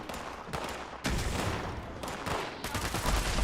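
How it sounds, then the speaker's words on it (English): Black powder rifle gunfire in the Fallout 76 video game, heard as loud, sharp shot bursts at roughly one-second intervals, with a heavy blast near the start and another cluster at the end, no one talking. "he's gonna one-shot it with his black powder rifle"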